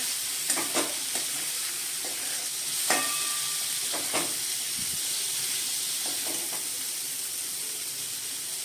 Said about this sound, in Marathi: आपण आता त्याच्यामध्ये मोडालेली मटकी घालूया मसाल्यामध्ये मिक्स करून घेऊया